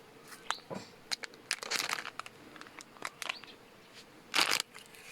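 Crinkly plastic packaging of wireless earbuds rustles and crackles in short bursts as it is opened, with a louder crisp tear near the end, close by and without speech.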